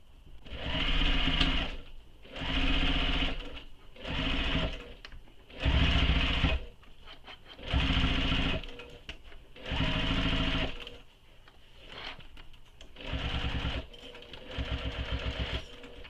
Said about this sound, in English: I'm going to sew all the way around the exterior gusset and the exterior panel